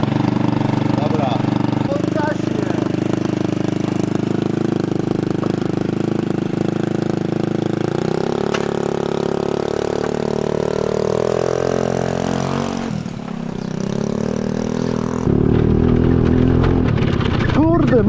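A scooter fitted with an Akrapovic exhaust runs loud and close, a steady buzzing drone that shifts pitch slightly and dips briefly near the end before returning strongly.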